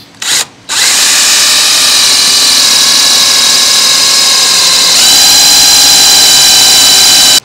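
A power drill bores a 3/8-inch hole through a mower bumper: a brief stop-start burst, then a loud sustained whine that shifts pitch slightly partway through as the bit cuts, close up and alone.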